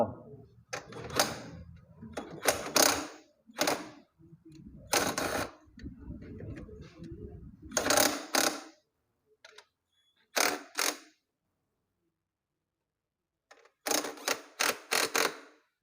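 Wrench tightening a bolt on a motorcycle sidecar hitch for a 200 cc bike, heard as bursts of sharp clicking ratchet strokes separated by pauses, close and fairly loud.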